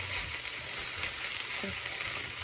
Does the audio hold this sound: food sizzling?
yes